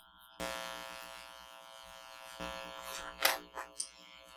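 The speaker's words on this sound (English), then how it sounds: "get that top stitch added" Sewing machine topstitching raffia material: two bursts of steady motor whir, each starting abruptly and running about two seconds, followed by a few short stitching spurts at the end.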